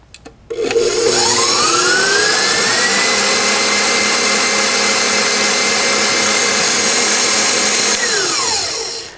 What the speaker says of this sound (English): I'm going to turn the mixer on for two reasons.